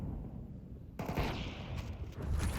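AWP sniper rifle shots in a Counter-Strike match on the Inferno map, loud gunfire that cuts in sharply after a quieter moment, with more shots and busy game noise after it.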